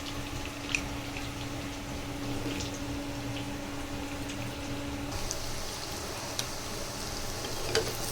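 Chicken pieces frying in a pan for chicken 65, a steady close sizzle with faint bubbling and occasional light clinks, continuous throughout with no talking.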